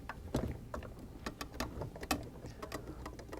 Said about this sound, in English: Using either a 7/16 nut driver, ratchet, or slotted screwdriver, we loosen these screws.